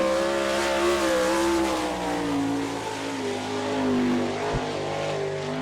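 A sprint car on a Maxim chassis runs a qualifying lap at Attica, its engine a loud, continuous roar with rising and falling pitch as it works around the track, a short sharp thump near the end.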